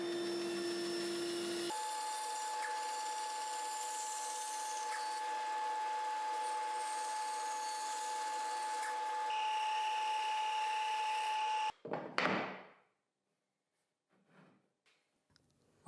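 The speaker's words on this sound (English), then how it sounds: "finish machining it with a bend saw and a sanding disc." A band saw and sanding disc work 9mm plywood in a workshop, a steady loud machine whine with tonal hum that runs unbroken before cutting off abruptly, followed by a brief clatter and near silence.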